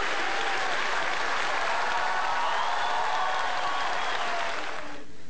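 Steady applause from a university audience greeting actress Türkan Şoray, a dense continuous clapping wash with faint crowd murmur, holding for several seconds before tapering slightly at the end.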